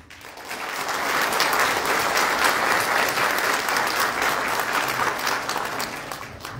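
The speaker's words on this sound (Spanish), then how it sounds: "ellos se merecen un fuerte voto de aplauso" Sustained applause from a graduation ceremony audience, dense steady clapping that swells in and holds strongly for several seconds before easing slightly at the end.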